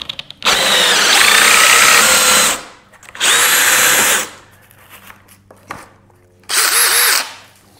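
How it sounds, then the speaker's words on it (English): Power drill boring down through a locked jig into a shaker cabinet door, three loud whining bursts of a few seconds each, separated by brief quiet gaps with faint handling. "we're just going to drill down"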